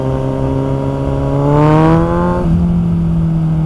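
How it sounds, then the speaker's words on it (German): A car with its exhaust run without the dB killer revs hard and close, the engine note climbing quickly before dropping back to a loud, steady drone. "der Auspuff ist einfach übertrieben laut"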